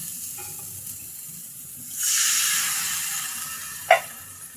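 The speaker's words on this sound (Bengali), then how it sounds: "মশলাটা আমি এখন কষিয়ে নিচ্ছি।" Spice paste with turmeric and salt frying in a pan, a soft steady sizzle that swells into a louder hiss midway, with a brief sharp clink near the end.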